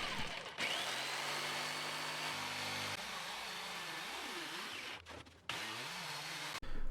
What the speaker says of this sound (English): I use a 12mm spade bit to make a hole for the blade attachment